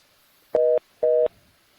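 Telephone line tone heard while a phone line is being reconnected: two short, loud steady beeps about half a second apart, alone against near silence.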